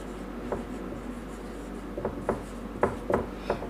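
Chalk or marker scratches across a classroom board during a chemistry lesson, a series of short strokes growing more frequent toward the end over a low background hum.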